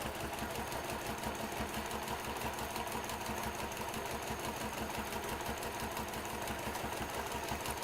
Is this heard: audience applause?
no